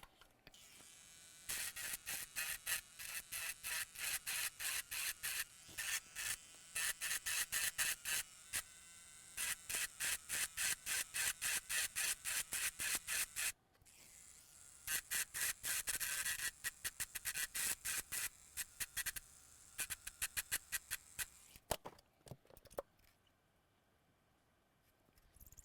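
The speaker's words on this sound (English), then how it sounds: "A lot of viewers suggested that we grind wider, deeper." A small rotary grinder cuts at a shorted area on an ASUS Strix Scar 2023 laptop board, quiet rapid buzzing bursts in a fast stuttering rhythm of short pulses, pausing briefly midway and ending in faint scratches.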